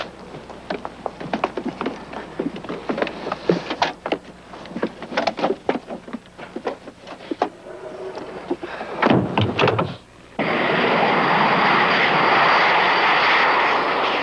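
A jet aircraft's engine drones steadily in flight, with scattered clicks and thumps over it before a loud, smooth rushing roar takes over near the end.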